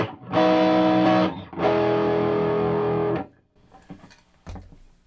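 A 2014 EVH Wolfgang Standard electric guitar rings out through a Tube Screamer overdrive: two long sustained distorted chords, one after another, then a quiet pause with faint string noise and a soft thump.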